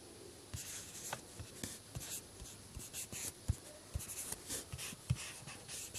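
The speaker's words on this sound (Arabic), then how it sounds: "يا ريت نكتب يا جماعه كل كلمه" Pen scratching and tapping on paper as answers are written by hand during a primary-school lesson, a steady run of quiet strokes with occasional sharper knocks, close and alone without talk.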